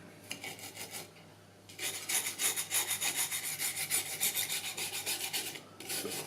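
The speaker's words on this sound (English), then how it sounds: "might as well give it all a good scrub" Brisk rhythmic scrubbing of an Amiga A501 expansion board with a brush and isopropyl alcohol, a short burst first, then a longer steady run of rapid back-and-forth strokes, close and clear.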